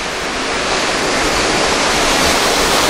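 River water rushing and flowing steadily, a dense, loud broadband wash with no breaks, heard close and alone.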